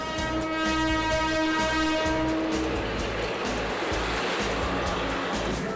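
A Philippine National Railways train near Pandacan station sounds a long, loud, steady horn while passing close by, then a heavy rumbling roar with rhythmic rail clatter takes over as the horn stops.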